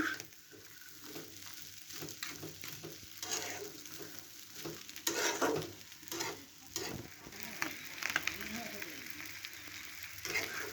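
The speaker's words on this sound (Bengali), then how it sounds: "মশলার সঙ্গে সব কিছু ভালো মতন কষে গেছে।" Spices are stir-fried for murighanto, a fish-head and rice dish, with a continuous sizzle and repeated rhythmic scraping of a spatula against the pan, moderately close and steady throughout.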